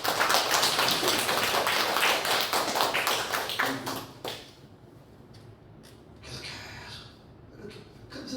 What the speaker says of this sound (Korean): 우리 박수 한번 해줘요